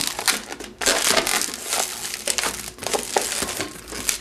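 A latex balloon is squeezed hard at its middle and twisted, giving dense, continuous rubbery squeaks and crinkly rubbing close to the microphone, with no voice.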